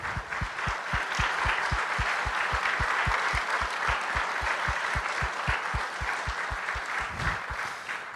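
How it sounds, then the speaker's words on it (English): Sustained audience applause fills the room as mothers stand to be recognized at a Mother's Day service, with dense steady clapping throughout and a rhythmic low thumping pulse underneath. "Let's give them a round of applause."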